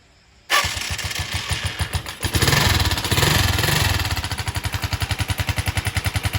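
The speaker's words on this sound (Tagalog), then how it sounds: "Tapos bubuhayin natin yung motor." A 125cc underbone motorcycle (TMX Alpha, Motorstar or Rusi type) starting up after a brief silence, cranking into a loud, close engine that settles into a steady, pulsing idle, no talk.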